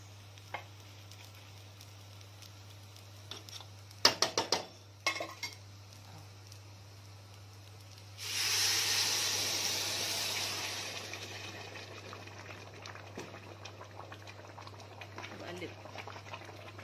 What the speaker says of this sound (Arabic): هنزل بقى بميه العدس